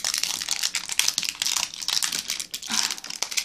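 A food package crinkles close up as it is opened, with bursts of crackly plastic rustling that rise and fall in quick irregular pulses.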